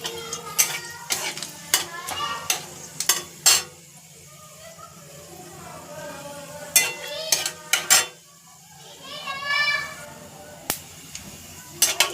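Panch phoron spices, bay leaf and dried red chili going into a hot kadai of oil, with sharp clinks and scrapes of a utensil against the pan over a soft sizzle, in bursts separated by quieter gaps.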